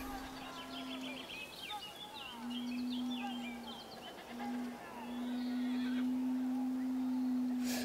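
Horses neigh and whinny repeatedly in the strategy video game Humankind, several calls in sequence over a steady low droning tone, with faint bird-like chirps mixed in and no speech.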